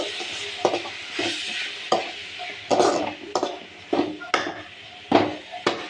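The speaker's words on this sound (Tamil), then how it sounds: "ஸோ அவரக்காய் சேர்த்துட்டு நல்லா கலந்து விடுங்க." Broad beans (avarakkai) stirred in a pan, a spoon scraping and knocking in a repeated rhythm of close, fairly loud strokes over a faint sizzle.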